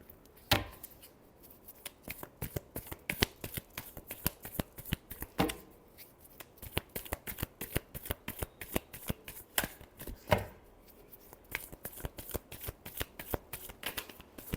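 Tarot cards shuffled in quick, steady riffling bursts, a dense run of crisp slaps and flutters close by, with a few louder snaps standing out and no talking.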